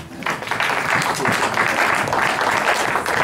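A church congregation at a Sunday end-times seminar applauds, a steady, dense wash of many hands clapping close and loud throughout, with faint voices mixed in.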